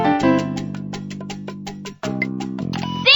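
A piano melody from a Dora children's PC adventure game, sustained low chords under a run of quick bright notes, loud and clear with no talk, pausing briefly before a second phrase.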